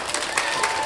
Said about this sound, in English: So let's give everybody another big round of applause.